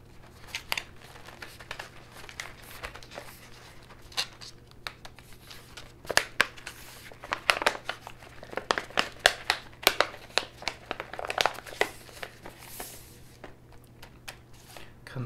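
A crinkly plastic bag of Belgian rock sugar handled close up, with irregular bursts of sharp crackling and crinkling that grow busier midway, and soft talk in between.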